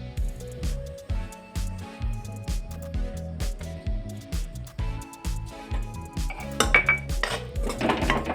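A spoon scrapes and clinks rhythmically against a pan as a flour mixture for homemade soan papdi roasts in ghee and oil, with a regular stirring beat and a faint sizzle underneath.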